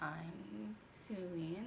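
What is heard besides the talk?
No distinct noise like a dog, phone or traffic.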